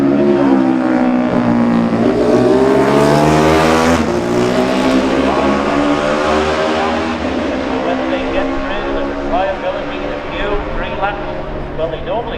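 Classic racing motorcycles, Honda and Norton Manx machines in a TT junior race, roar past with loud engine note rising and falling, a commentator speaking over the steady mechanical drone throughout.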